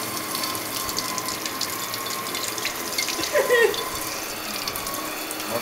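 Shower water runs steadily while a person washes Jack, a constant close hiss of spray with faint clinks and a brief squeak partway through.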